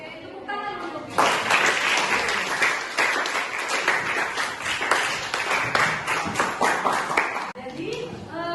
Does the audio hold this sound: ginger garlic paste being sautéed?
no